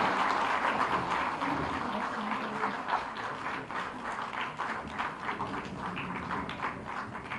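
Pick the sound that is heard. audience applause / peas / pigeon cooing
audience applause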